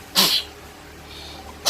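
Two sharp, loud sneezes from a person nearby, one at the start and another near the end, separated by a quiet pause with faint room noise.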